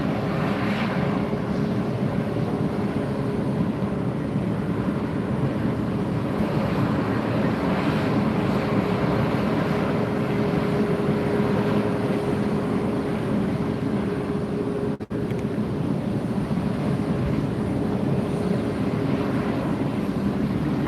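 Southwest airliner departing Fort Lauderdale airport, a steady, distant jet rumble mixed with wind noise, continuous throughout with one brief dropout.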